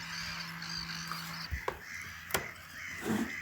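Birds call out across the nesting islands of Rye Harbour Nature Reserve, heard from a hide: a few sharp crow-like caws and short cries stand out over a faint, steady outdoor background, with no talk.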